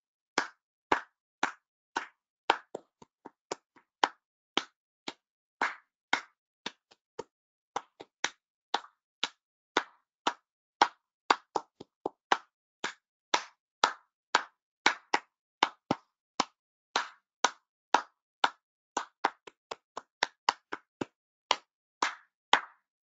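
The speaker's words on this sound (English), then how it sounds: "I'm going to add a rhythm while you were clapping the old rhythm." Hands clapping a rhythm along with a leader, crisp sharp claps repeating in an irregular patterned beat with brief pauses, close and clear for over twenty seconds with no talking.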